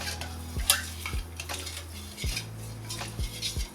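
A metal spoon stirs sugar into lemon shikanji in a glass or vessel, producing repeated bright clinks against the sides at an uneven rhythm, with soft swirling of liquid between strikes, close and fairly quiet, no talking.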